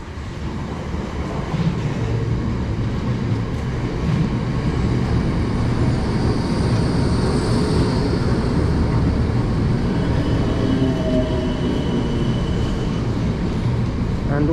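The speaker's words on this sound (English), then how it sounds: "coming in now is going to be our train, 1304, South Western Railway service" A South Western Railway class 455 electric train rolls into a station platform, a steady loud rumble of wheels and motors with brake hiss and faint squeal, sustained throughout with no talking.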